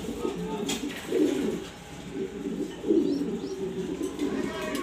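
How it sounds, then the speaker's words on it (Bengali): Female pigeons cooing, a kept breeding hen among other pigeons, soft low rolling coos repeating in a few swells close by over a steady murmur of birds, no talking. "এটা হচ্ছে মিলি মাদি কবুতর, এটা মাদি কবুতর মিলি, রানিং, ডিম বাচ্চা করা মাদি কবুতর।"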